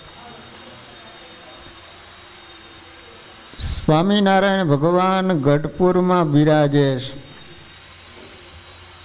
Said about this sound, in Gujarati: તમે બધા મિક્સરનો અવાજ સાંભળો છો કે મારી કથા સાંભળો છો?